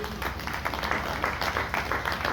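Guests at a civil wedding ceremony applaud the standing couple, a continuous, moderately loud patter of many hands clapping in a room.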